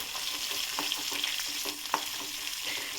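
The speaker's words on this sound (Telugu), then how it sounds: "తర్వాత ఉల్లిపాయలు, ఇవి కొంచెం బాగా ఫ్రై కావాలండి." Onions frying in a pan for an upma-style dish, a steady close sizzle with soft spatula stirs and a sharp tap near the two-second mark, no talk.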